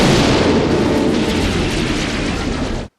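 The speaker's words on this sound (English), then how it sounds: "Or explosions." Explosions from a sci-fi movie about alligator women fill the moment with a loud, continuous roaring blast that rumbles for about three seconds and then cuts off abruptly.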